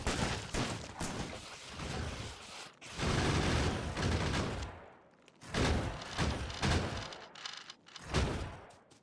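Shotgun blasts in the game Factorio come in heavy bursts of repeated firing, loud and close, with short gaps and mechanical clatter between the volleys.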